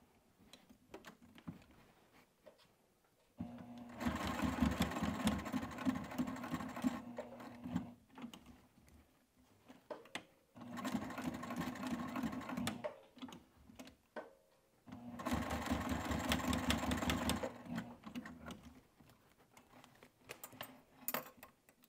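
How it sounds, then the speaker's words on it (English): A sewing machine runs in three steady bursts of rapid, rhythmic zigzag stitching on apron webbing, each a few seconds long, with quiet handling clicks in the pauses. "I'm gonna take it to the sewing machine and I just kind of do like a Z stitch"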